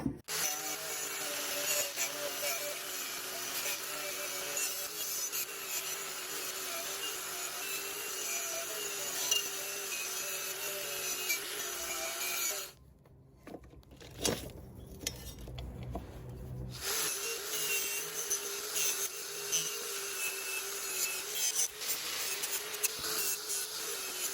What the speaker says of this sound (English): use a knotted wire wheel on my angle grinder to try to get all this paint and rust off of here